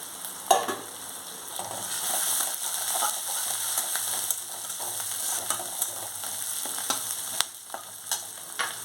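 Steady, bright sizzling of stuffed pointed gourds frying in a pan, with intermittent clicks and scrapes of a utensil moving the pieces around.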